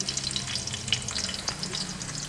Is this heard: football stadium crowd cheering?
no